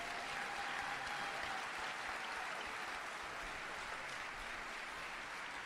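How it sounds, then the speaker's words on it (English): An audience at an on-stage event in Paris applauds a guest being welcomed up to the stage: dense, continuous clapping that holds steady throughout, heard from a distance with no voices over it. "On peut l'applaudir très fort."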